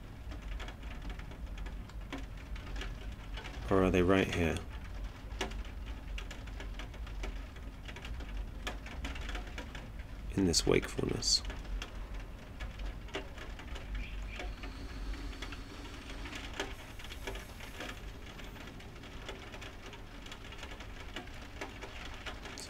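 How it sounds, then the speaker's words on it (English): Rain patters steadily on a window, a soft continuous wash of droplets heard from indoors throughout, with someone speaking quietly over it. "I can hear the sound of rain on the window."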